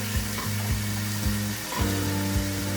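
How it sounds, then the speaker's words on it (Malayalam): Salted onions sauté in a pan for chicken tikka masala gravy, giving a constant close sizzle. Stirring strokes break it up about every half second, and no voices are heard. "ഇനിയും ഈ ഉള്ളിയെല്ലാം ഒന്ന് വഴന്ന് വരട്ടെ"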